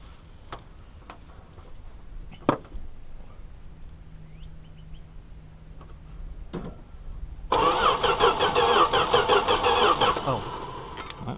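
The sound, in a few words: 1971 Valiant engine cranking, trying to start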